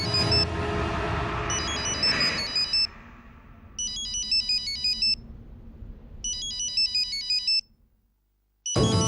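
An incoming call's electronic ringtone plays on a phone in a Telugu TV serial, a bright repeating melody in short bursts separated by pauses, following a brief noisy start.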